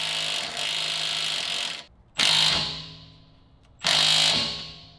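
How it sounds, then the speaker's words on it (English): A jack lifts the suspension spring on a BMW G80 M3. Its loud, close ratcheting mechanism clicks continuously and comes in three long bursts separated by short pauses. "I'm gonna jack up a little underneath the spring to let out some tension"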